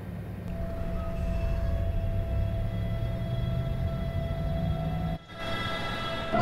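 A class 425 electric train in Train Sim World 2 departs Düren toward Merzenich with a steady low rumble and faint whining hum from the cab, briefly dipping near the end before the running noise resumes; no voices.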